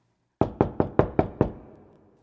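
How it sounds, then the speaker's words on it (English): Six firm knocks on a door in an even, quick rhythm, close and loud, with a short ringing decay after the last one; no voices. "I knocked on the door."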